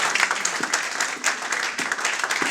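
A church congregation at a Sunday worship service applauding God: a brisk, crowded round of hand clapping, fairly loud and steady, with scattered cheers mixed through it and no clear talk.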